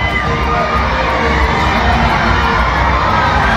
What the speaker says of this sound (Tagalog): Pakinggan nyo ito, kanina pa ito sigawan mga kababayan.